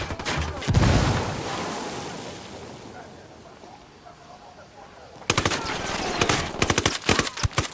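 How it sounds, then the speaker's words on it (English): Dense bursts of automatic gunfire in Tom Clancy's Ghost Recon Wildlands, a loud opening volley, a quieter lull of distant shots, then rapid close cracks returning at the end. "Taking fire from the barn."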